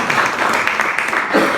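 An audience at a book review and conversation event claps together, a dense, steady patter of many hands that runs through the whole short clip, loud and close.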